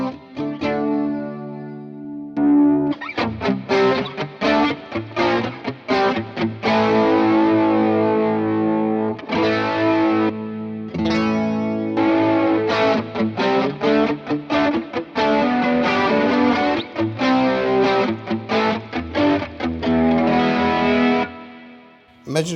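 A distorted electric guitar through an overdrive and an MXR Wylde Audio chorus pedal strums and picks chords with a shimmering, warbling chorus, loud and up close, with short pauses between phrases.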